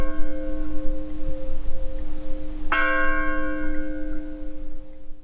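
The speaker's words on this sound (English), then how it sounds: "you've just heard 5 seconds of church bells" Church bells from a small Irish chapel across the road ring in a sustained tone, then a clear fresh strike lands midway, its bright overtones slowly fading into a steady low background rumble.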